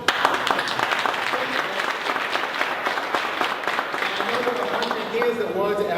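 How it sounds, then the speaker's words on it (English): Audience applause at a tech meetup presentation, dense steady clapping from a crowd filling the room for several seconds, with faint voices mixed in. "Round of applause for Milton."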